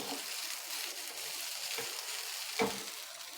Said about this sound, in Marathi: आता इथे हे नूडल्स घालणार आहोत आपण सर्व व्यवस्थित मिक्स करून घेऊ